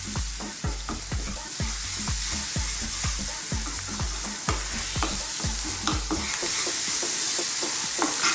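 Spice-coated fish steak curry sizzles over above-medium heat while a utensil stirs it with steady repeated scraping strokes, close and continuous, with no talking.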